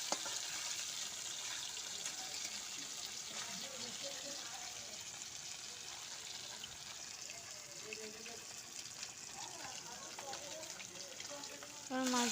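Fish frying lightly in a pan of oil, a steady soft sizzle throughout with occasional stirring clinks and a louder burst of sizzling at the very end.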